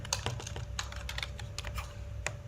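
Rapid irregular clicking of keys on a computer keyboard as code is typed during a programming lesson, close and steady over a low background hum.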